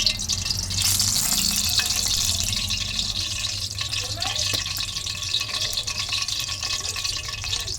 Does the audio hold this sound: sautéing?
yes